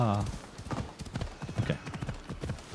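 Horse hooves clip-clop in Assassin's Creed Odyssey, with a horse's whinny at the start, followed by quick galloping hoof beats mixed with someone talking over the game sounds.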